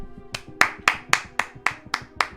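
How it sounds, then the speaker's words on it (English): One person clapping eight evenly spaced, crisp claps close by, with no voices. "Round of applause, thank you."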